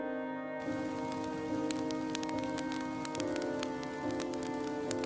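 Steady rain pattering on a surface, with scattered louder drops tapping close by and a faint low background hum.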